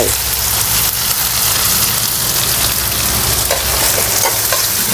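Pounded chili paste is stir-fried in a hot pan, giving a loud, dense, continuous sizzle and crackle with occasional scraping stirs, close up and with no voices.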